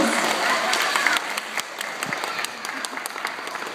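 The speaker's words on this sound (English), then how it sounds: "Give Sally another big round of applause." An audience gives a big round of applause, starting dense and loud and then thinning into scattered claps, with voices faintly under it.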